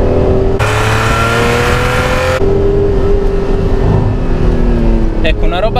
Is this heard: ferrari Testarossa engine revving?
yes